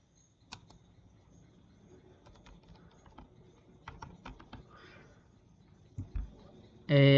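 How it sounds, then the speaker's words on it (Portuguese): Student's name being typed on a computer keyboard into a registration form, a run of light, irregular key clicks at close range with a louder thump near the end and some background speech. "você vai digitar aqui o nome"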